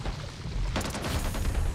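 Gunfire and explosions in the video game Back 4 Blood. A continuous, dense rumble of shots with a heavy low-end boom that thickens into a sharper burst partway through, sounding close and loud.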